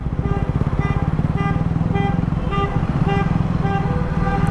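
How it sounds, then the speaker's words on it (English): Repeated short car horn toots in a steady rhythm over a rumbling engine and road noise, fairly close and persistent. "Why is my guy honking, bro?"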